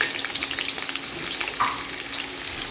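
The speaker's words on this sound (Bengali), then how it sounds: "এরপর আলুগুলো একে একে ছেড়ে দেবো আলুগুলো বেশ লাল লাল করে ভেজে নেব সব আলুগুলো এর মধ্যে দিয়ে দিচ্ছি" Potatoes fry in hot oil in a steady, crackling sizzle heard up close, with a small clink partway through and no speech.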